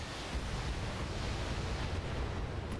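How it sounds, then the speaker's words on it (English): An LRM ammunition explosion in the BattleTech video game roars as a dense, sustained blast of broadband noise, loud and steady throughout with no speech. "ooh, LRM ammo explosion"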